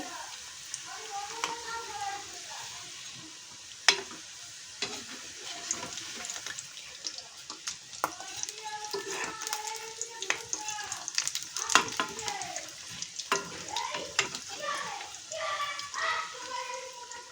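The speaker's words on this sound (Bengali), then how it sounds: "এখন এগুলোকে আমি ডুবো ডুবো তেলে ভেজে নেব এখানে কড়াইতে তেল গরম হয়ে গেছে" Stuffed pitha dropped one by one into hot oil in a wok for deep frying, a soft bubbling sizzle with clinks and scrapes of a utensil throughout, fairly close and moderately quiet.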